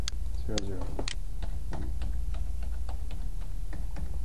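Fingers tapping a computer keyboard to enter a numeric motorcycle part number, a sparse run of crisp, close clicks over steady background hum, with someone speaking briefly early on.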